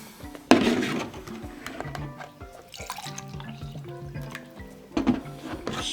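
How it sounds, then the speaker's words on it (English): Spring water poured into a sea monkey tank, with a splashing pour starting sharply near the start and trickling, dripping liquid sounds continuing, then a second louder splash toward the end. "And now there is a line right up here to the level we should fill it."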